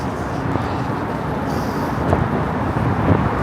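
Wind rushes past on a Manhattan street in February as cars pass nearby, a steady broadband roar of traffic and gusts, fairly loud and without clear voices.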